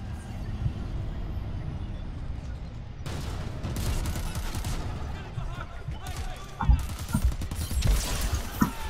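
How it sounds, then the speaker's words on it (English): A very powerful gun fires in Crackdown 3, heavy blasts and rumbling impacts over a constant roar of game noise, with a sharp onset partway through and harsher bursts near the end; a voice speaks underneath. "I did not mean to use the really strong gun on it."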